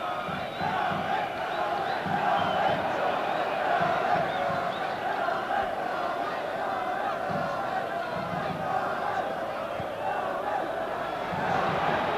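Large football stadium crowd at a 1993-94 Champions League match between Galatasaray and Manchester United, a constant roaring wash of voices with chanting and shouts, distant and unbroken for the whole stretch.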